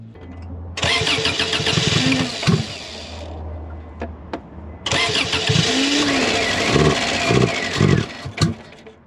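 A Subaru engine fed gasoline poured straight into the throttle body, with makeshift spark plug wires, cranks and catches in two loud bursts, running roughly and sputtering before cutting out, then firing again and revving unevenly up close.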